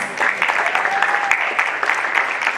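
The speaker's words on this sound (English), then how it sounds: "Clap yourselves." A crowd claps steadily at a college football celebration and awards ceremony. The loud, dense applause fills the whole stretch with no break.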